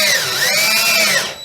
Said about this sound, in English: I can feel it drilling through the